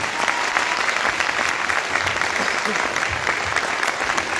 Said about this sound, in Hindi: संजीव सर के लिए एक बार जोरदार तालियां होनी चाहिए।